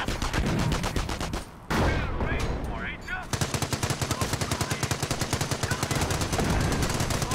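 Gunfire in Company of Heroes, rapid loud bursts of automatic shots broken by a brief lull, then resuming as a steady, rhythmic rattle of machine-gun fire, with voices faintly present.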